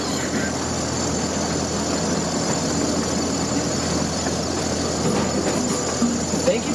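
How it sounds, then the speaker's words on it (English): A small zoo train, the Titus Express, rolls along with a steady low engine hum and rumble of the cars under a faint announcement voice. "Please remain seated until the train comes to a complete stop and the engineer dismisses you."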